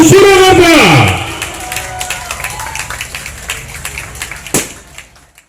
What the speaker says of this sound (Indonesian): Sekali berikan tepuk tangan untuk SMA Negeri 1 Surakarta.